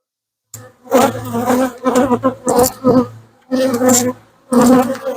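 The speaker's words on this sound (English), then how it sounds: "And this box has plenty of bees in it." Loud, close buzzing of many honey bees around an open hive box, in swelling bursts, a dense droning swarm that rises and falls with short gaps.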